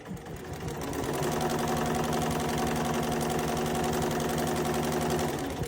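A Poolin EOM embroidery machine runs steadily as it stitches an appliqué foot, its rapid needle chatter and motor hum close and even after a short start-up, with no talk.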